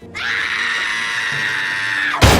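Screaming from a movie scene, one loud, sustained, high-pitched shriek lasting about two seconds, cut off abruptly by a burst of noise.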